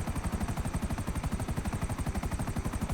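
Video game helicopter flying with a fast, steady rotor chop, a rhythmic thumping pulse that holds constant and fairly close throughout, no voices.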